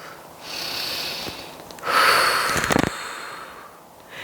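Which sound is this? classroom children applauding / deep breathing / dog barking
deep breathing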